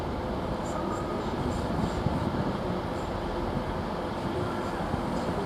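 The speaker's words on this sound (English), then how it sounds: "Now you're getting TransPennine Express coming through here." A TransPennine Express train runs through Doncaster station with a steady low rumble of wheels and engine. The rumble is continuous, with faint higher squeals above it.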